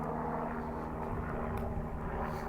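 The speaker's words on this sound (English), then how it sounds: "There's a helicopter right now flying from somewhere." A helicopter flies overhead at night near a mall, a steady low engine and rotor drone that fills the whole short stretch at moderate distance, with no talking.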